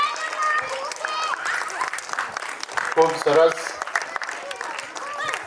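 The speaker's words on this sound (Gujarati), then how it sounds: "જોરદાર તાળીઓ આપણા ટીમ માટે" An audience claps for a performing team at a school event, a short burst of applause mixed with cheering while a voice speaks over it.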